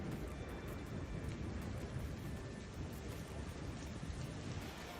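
Heavy thunderstorm rain over Taif during floods and hail, a dense, steady roar of downpour that holds loud and unbroken throughout, with a possible low rumble of thunder beneath.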